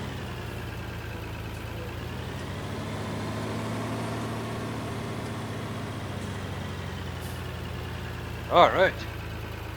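A tractor engine idles steadily in the in-cab view of Farm Simulator 19, a low continuous hum with a brief voice near the start and two short sharp clicks near the end.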